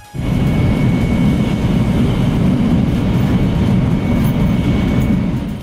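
Inside a Japanese Shinkansen bullet train at speed, a loud, steady roar of rushing air and rolling wheels sets in abruptly and holds constant, with no voices.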